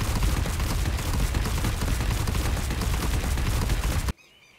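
Dense, continuous burst of rapid gunfire in ARK: Survival Evolved, loud and unbroken for about four seconds before cutting off abruptly into near silence.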